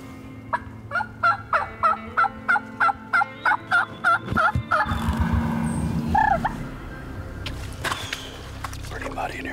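Wild turkeys gobble in Missouri timber, a rapid run of about a dozen rhythmic gobbling notes that stop abruptly, followed by a broad rumbling background noise and a few faint calls.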